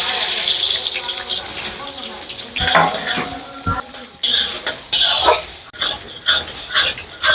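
Spices and a bay leaf crackle and sizzle in hot oil for a katla fish curry, with bursts of spattering, utensil clinks against the pot and stirring scrapes, close and fairly loud.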